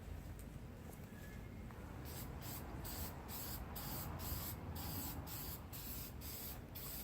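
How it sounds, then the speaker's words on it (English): Steady hissing spray from an aerosol spray can in an enclosed space, a continuous close and fairly loud rush with rhythmic pulses in the upper hiss as the can is swept back and forth. "which you will see as soon as I start spraying"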